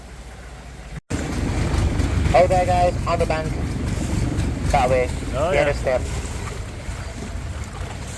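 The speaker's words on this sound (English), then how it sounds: "And these are our boats." A longboat on a Bangkok river, its engine a steady low rumble mixed with wind buffeting the microphone, running continuously while people on board call out and talk over it.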